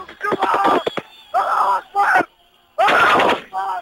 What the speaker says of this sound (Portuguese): ainda se ouvia a troca de tiros entre os soldados leais ao ditador e os rebeldes